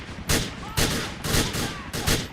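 Gunfire from a Grand Theft Auto IV mission, shooting through thugs and a heavily armed NOOSE squad: four loud, close bursts of shots, separated by brief lulls.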